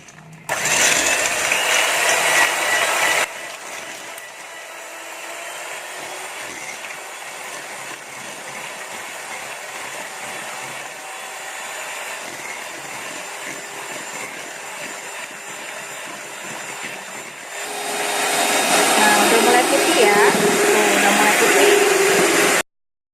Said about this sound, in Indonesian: Yuk kita mixer ya.